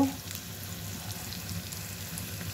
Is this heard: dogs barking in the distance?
no